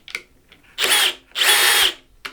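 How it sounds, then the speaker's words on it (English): A power drill driving a rack-mount screw on audio gear gives two loud, buzzing bursts of about half a second each, with faint clicks of the ratcheting bit before and after, close and alone without talk. "you want to hear it make that little ratchet sound"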